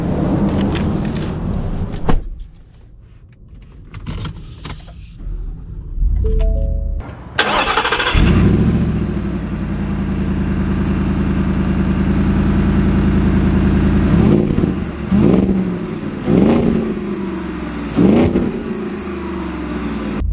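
A 2023 Shelby F-150 Super Snake Sport truck engine cranks and fires up with a loud roar, settles into a deep steady idle, then gets several sharp revs near the end, preceded by a few clunks and quiet shuffling.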